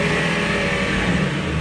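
A car engine at an auto auction is revved and held at a loud, steady roar nearby, with no talking over it.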